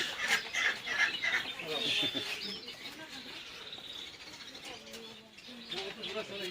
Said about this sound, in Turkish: Şurada tavuklar var.